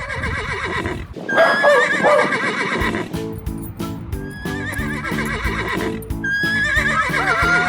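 A horse neighs loudly and repeatedly with long shrill whinnies, close by, while hooves clop faintly underneath.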